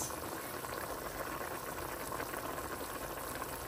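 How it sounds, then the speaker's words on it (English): Curry conch simmers at a steady, close boil in a pot, a continuous dense bubbling with no pauses or voices. "Bubbling nice."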